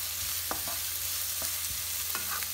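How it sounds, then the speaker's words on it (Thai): Aromatics fry gently in a pan over low heat, a steady close sizzle broken by three light scraping stirs, no voices. "เจียวให้หอมเลยนะคะ"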